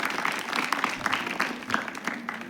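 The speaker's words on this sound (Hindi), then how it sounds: "एक बार जोरदार तालियां बजाइए" Applause from an audience at a stage event honoring a competition topper, a short burst of steady clapping at moderate distance that fades toward the end.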